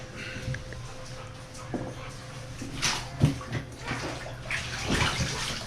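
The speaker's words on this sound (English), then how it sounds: "we're gonna dunk it in the water" A MarchWay floating dry bag is pushed under water, giving sloshing splashes and bubbling swirls that swell around the middle and end, close and moderately loud over a steady watery hiss.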